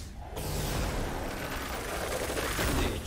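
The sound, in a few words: charged shot fired in video game Ghostwire: Tokyo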